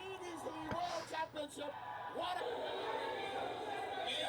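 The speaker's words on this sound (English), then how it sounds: "Crowd reaction as well." A darts crowd erupts after a winning double 16 finish against Cameron Carlson, with shouts and cheers rising into a sustained loud roar of a packed hall, voices yelling over one another throughout.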